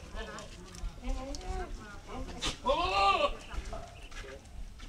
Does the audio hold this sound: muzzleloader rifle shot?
no